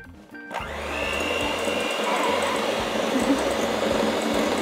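An electric hand mixer starts up after a brief pause and whirs loudly and steadily, its beaters churning butter and sugar in a bowl with a constant motor whine.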